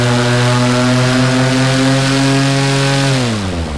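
A small propeller airplane sits on an island before takeoff with its engine running loud and steady close by, a constant droning buzz that drops in pitch near the end as the throttle eases back.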